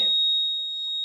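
A steady, high-pitched electronic buzzer tone from a homemade water level indicator circuit drones continuously at an even level, with a brief soft rustle at the very start.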